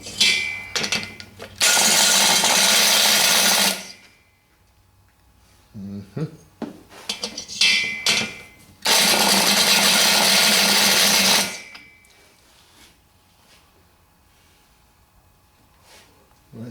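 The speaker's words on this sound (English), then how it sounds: "That's why it's a good idea to grind the valve seats." Stones grind the valve seats of a VW engine in two loud, steady bursts of about two seconds each. Quieter clatter and handling noises fill the gaps between them, and no one speaks.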